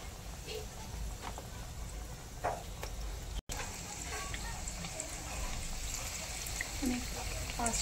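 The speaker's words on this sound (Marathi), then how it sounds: "याचप्रमाणे मी सगळ्या हे बटाट्याच्या स्लाइस तेलामध्ये सोडत आहे." Potato slices hiss and crackle steadily in hot oil over a low flame, a dense, even frying noise with a brief dropout partway through and faint clinks.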